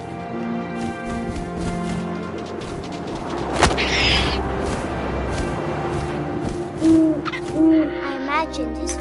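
Owl hoots echo through a What Remains of Edith Finch game scene, a few spaced calls rising late over a steady wind-like background bed and a single sharp thump early on.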